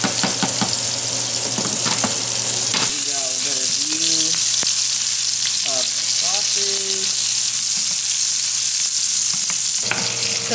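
Shrimp and sausage sizzle steadily in a pan on low heat, a constant close frying hiss running throughout with occasional stirring scrapes and brief faint voice-like tones in the middle.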